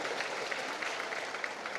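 Audience applause for the West Java Golkar party delegation at a political rally, a steady dense wash of clapping hands throughout, with no voices on top.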